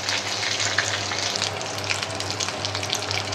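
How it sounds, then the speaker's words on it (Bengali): Hot oil spatters and sizzles in a pan as bay leaf, green chilli and ginger temper in it for an ash gourd dish, a steady close crackling fry with scattered sharp pops. "তেলটা বড্ড ছেট করছি"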